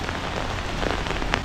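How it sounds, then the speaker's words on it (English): Rain falls steadily on a wet morning by Lake Inawashiro in Fukushima, Japan, a dense, even hiss of drops striking surfaces close by. "A rainy morning."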